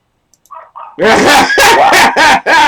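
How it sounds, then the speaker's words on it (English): Several close, loud dog barks in quick succession, preceded by a couple of softer yips. "They're all barking."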